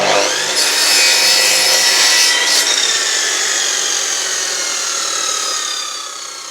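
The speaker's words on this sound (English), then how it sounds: "Cut the end of your timber nice and square." A compound sliding mitre saw slices through a piece of scrap timber, its blade whining loud and close with a bright, sustained rasp that holds steady for several seconds and then begins to ease off near the end.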